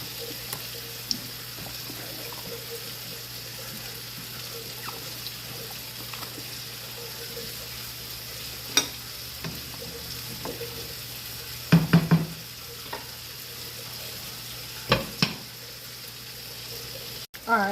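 Bacon and onions frying in a pan, a steady soft sizzle throughout with a few scattered utensil clinks and stirring scrapes near the end.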